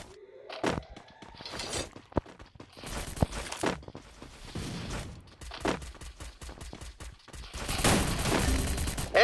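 Gunfire in the Free Fire battle royale video game: rapid, irregular volleys of sharp shots with shattering impacts and scattered footsteps, growing denser toward the end, with no talk.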